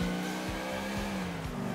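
In-game car engine in GTA 4 droning steadily at moderate revs, with gear-shift dips and faint tire noise, continuous and close with no talking.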